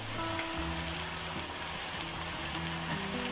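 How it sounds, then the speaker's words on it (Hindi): Beef frying steadily in a pot for degi beef korma, a continuous close sizzle with faint stirring, no voices over it. "हमारा जो गोश्त है ना वो अच्छे से फ्राई हो चुका है"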